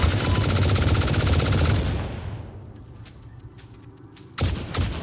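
A loud, dense burst of automatic gunfire in the factory-building game Satisfactory fades out after about two seconds, followed by a few faint clicks and another short burst of shots at the end.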